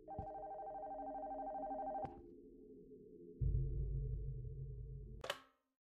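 An old-style telephone bell rings repeatedly inside an abandoned house in a horror video game, loud and steady at first, then giving way to a low rumbling drone and a sharp closing clatter.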